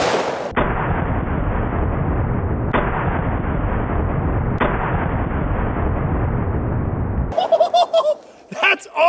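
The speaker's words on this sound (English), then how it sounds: "Three rounds of Remington 2 3/4 inch double aught buck." A triple barrel shotgun fires Remington 2 3/4 inch double aught buckshot in three very loud, close blasts a couple of seconds apart, each leaving a long roaring decay. Brief voices and outdoor noise follow.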